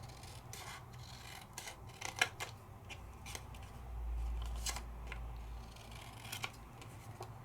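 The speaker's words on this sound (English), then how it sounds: "I'm going to trim it on down." Scissors trim a sheet of blue paper during a card-making and embossing session, giving a run of short crisp snips and rustles that sit close by with no talk.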